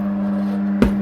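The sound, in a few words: tyre bead snapping onto the rim at the valve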